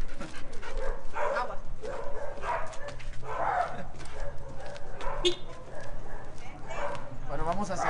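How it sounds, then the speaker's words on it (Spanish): A Husky dog whimpers and gives short barks and yips near the scene of an investigation, intermittent cries heard under ongoing talking. "Y este es un perrito Husky"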